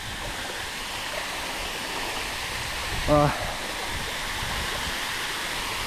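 A 40-metre waterfall in Nicaragua roars as a steady broadband rush throughout, with a single brief voiced exclamation near the middle.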